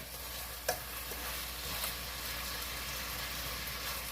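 Fresh Maine scallops sizzling steadily in a hot pan, a low continuous frying hiss with a couple of faint clinks as they are tossed around, with no talking.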